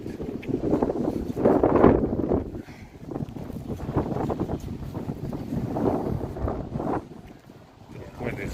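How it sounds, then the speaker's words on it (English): Wind buffets a handheld microphone outdoors on a cold, hazy day in London, a rough gusting roar that swells and drops, with someone talking over it. "The wind is whistling by my fucking ear."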